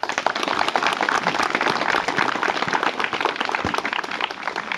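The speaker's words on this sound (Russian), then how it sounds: "Ваши аплодисменты." A crowd applauding at a Cossack cadet camp in Russia, with dense, steady clapping that carries without a break for several seconds, loud and full.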